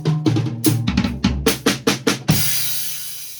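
A drum kit plays a Herta rudiment example as a quick run of snare and tom strokes in even groups, then resolves on the fourth beat with a loud crash cymbal that rings out.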